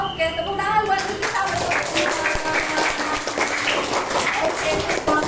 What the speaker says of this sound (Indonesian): Oke, tepuk tangan buat Niki.